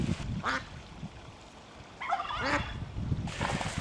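Several geese honk near a farm pond, giving a few separate calls in short bursts against light background noise.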